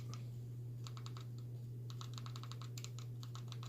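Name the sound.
typing on keyboard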